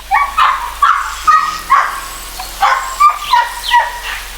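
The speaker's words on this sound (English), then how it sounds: "The dogs are making a lot of noise because they want some attention." Several dogs on a farm in Jamaica bark in short, repeated bursts, with a few higher yips mixed in, close by and fairly loud.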